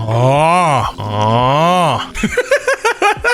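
A person loudly imitates snoring with two long, drawn-out rasping breaths, then breaks into a string of short, choppy vocal bursts.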